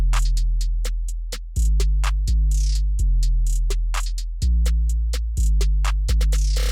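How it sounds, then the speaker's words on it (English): A simple 808 bass pattern in a hip hop beat booms deep and sustained, each long note sliding down before the next hit, while quick hi-hats and claps tick steadily on top. "I mean, it's just a simple 808 playing this pattern,"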